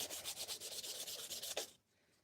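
Hand sanding a wood finish: rapid, even back-and-forth rasping strokes close by for about two seconds, then stopping.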